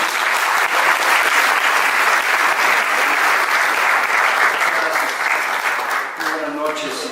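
An audience at a theatre talk in a cultural centre breaks into sustained applause, a loud dense wash of clapping that fades near the end as a voice begins.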